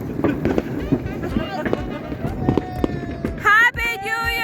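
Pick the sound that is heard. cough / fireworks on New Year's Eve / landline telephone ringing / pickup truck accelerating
fireworks on New Year's Eve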